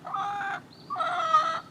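A chicken clucks in two short bursts close by, with a brief gap between them and no talk over it.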